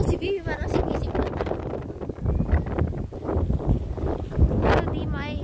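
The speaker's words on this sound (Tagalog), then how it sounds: "Pero di maiiwasan kasi talagang mahangin eh." Strong wind buffets the microphone outdoors at a picnic by the Museum of Islamic Art in Doha, Qatar, a loud continuous roar and rumble with people talking underneath.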